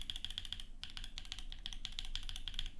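Close, crisp keystrokes on a rebuilt Think6.5 mechanical keyboard, typed in quick uneven bursts with brief gaps. The clacks are high-pitched and sound alone without any voices.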